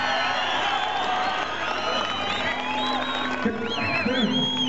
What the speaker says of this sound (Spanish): ¡Fuerte el aplauso para el último participante!